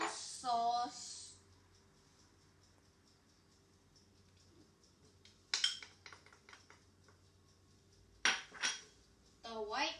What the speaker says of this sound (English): So we're going to mix the brown sugar, the applesauce